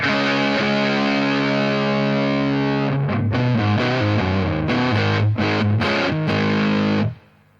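An electric guitar played through a Zander Circuitry Cranium distortion pedal, with a heavily saturated, howling sustained chord giving way to choppy, palm-muted riffing before stopping abruptly.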